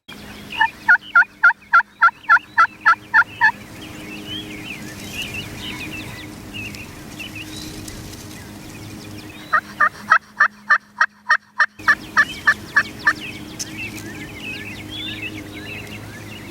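Wild turkeys gobble from a roost in the Michigan woods at dusk, two rapid bursts of gobbling, fairly close and loud, separated by a quieter stretch of ambient woodland sound.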